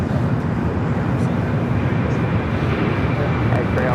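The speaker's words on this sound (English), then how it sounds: "Next takeoff is 737-900ER heading to Denver" A United Boeing 737-900ER bound for Denver taking off at Los Angeles International Airport, a loud steady broadband jet roar that holds constant throughout, with a voice speaking over it.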